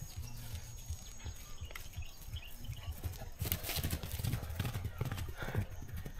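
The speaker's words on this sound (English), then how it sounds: "No, not horse, the donkey." A donkey brays at Kitale Nature Conservancy in Kenya, a loud rough call rising over outdoor noise and hoof clatter, with people talking nearby.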